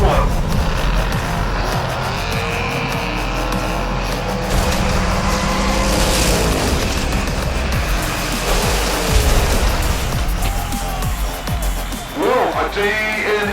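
Hot rod cars racing on a track, a steady loud engine roar with occasional tire squeal and commentary-like voices underneath, sustained throughout with a brief surge near the end.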